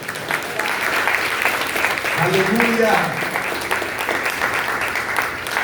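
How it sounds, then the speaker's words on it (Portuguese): Congregation in a church service applauding steadily throughout, with a voice rising over the clapping shouting a praise exclamation partway through. "Aplaudam ao Senhor."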